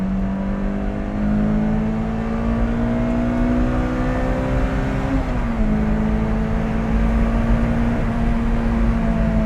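Inside the cabin of a Lotus Elise on a mountain road, the engine drones loudly with a steady rising tone that drops at a gear change and then climbs again, over constant road and wind noise.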